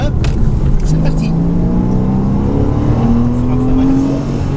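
Porsche Cayman S on the Mettet circuit, a loud engine drone climbing steadily in pitch under acceleration from inside the car, with someone talking over it.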